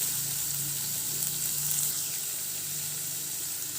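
Large onions with a pinch of asafoetida frying in a pan for a rava vegetable sandwich: a steady, even sizzle throughout, close and fairly quiet, with no talking.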